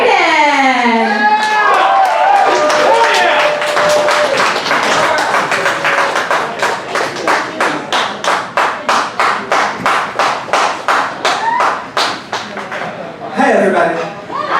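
A live show audience claps in a steady, evenly spaced rhythm of sharp claps that lasts about ten seconds, with voices talking before and after.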